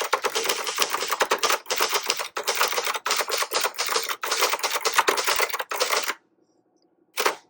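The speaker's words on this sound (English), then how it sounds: "so you can type your sentence" Rapid, crisp clacking of a 1971 Royal Sprite manual typewriter's keys in quick bursts with brief pauses, close up, ending in a short silence and one final strike.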